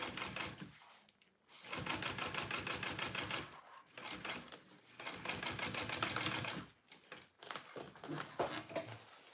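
A sewing machine runs a second row of stitching in rainbow thread, fast and steady in three long bursts with short pauses between, close and loud with no talk.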